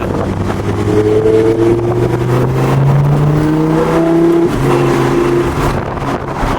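A Lamborghini Huracan Spyder LP610 engine drones close and loud, its pitch climbing steadily under acceleration, dipping briefly as gears change, then pulling up again before easing off near the end.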